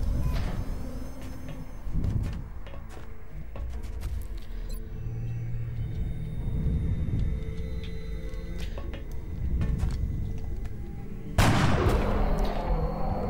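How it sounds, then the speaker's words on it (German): Gunfire in the turn-based strategy game XCOM: Enemy Unknown. Several loud, booming shots and rumbling bursts come at irregular moments, with a sharp, heavy blast near the end. "sie hat nach dreimal Schießen getroffen"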